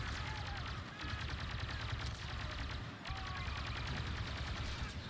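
Gunfire and rocket launcher blasts from a Star Wars Battlefront 2 battle, dense continuous shooting with repeated bursts and heavy explosive thumps, moderately loud throughout with little pause.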